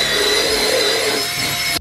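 Stiff brush scrubbing foam cleaner into the carpet of a BMW M3 interior, a steady, close, dense scratchy rubbing that runs continuously and stops abruptly at the end.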